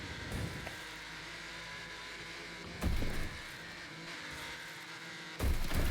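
Racing video game cars droning on the rev limiter during an endurance race on a Pinehills route, with a steady buzzing engine tone and brief louder surges where the car sound swells, continuous throughout with no talk.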